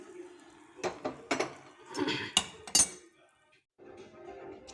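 A spoon clinks and scrapes against a metal pot in a few irregular strokes as lentils with sorrel leaves are stirred, followed by a brief pause and softer stirring.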